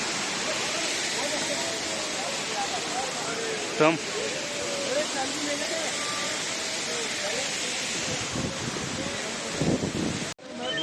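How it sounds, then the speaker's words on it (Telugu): Waterfall beside the mountain trail from Chandanwadi to Sheshnag on the Amarnath Yatra, a continuous close roar of rushing water with wind buffeting the microphone and a voice faintly audible beneath it. "మంచి వాటర్ ఫాల్ చూడండి వెళ్ళే దారిలో"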